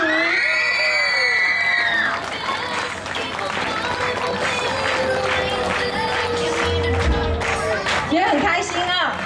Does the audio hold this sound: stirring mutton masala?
no